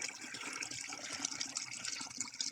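Water being pumped, a constant rushing and splashing flow that holds steady throughout, close by, with no talking.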